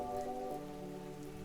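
Light rain falls outside an open doorway by a clinic as a steady, soft patter, with a faint continuous hum running underneath.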